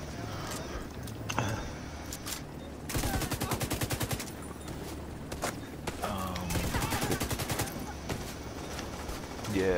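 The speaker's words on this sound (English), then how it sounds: "fucker pulled out his goddamn shotgun on me" Video game gunfire, including shotgun blasts, sounds in clusters of sharp repeated shots, loud and near, with quieter mechanical clatter between bursts.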